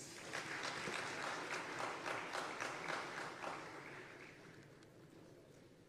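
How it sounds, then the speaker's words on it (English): Audience applause at a regional consultative dialogue on small-scale mining, a dense wash of clapping that holds steady, then thins and fades toward the end. "Another round of applause."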